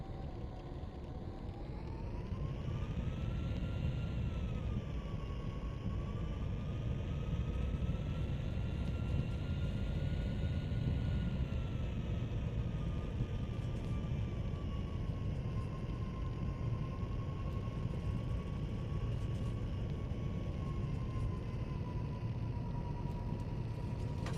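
An airliner in the X-Plane 11 flight simulator rolls for takeoff on runway 22, a steady engine roar with a tone that rises and then holds as the thrust builds, with no speech.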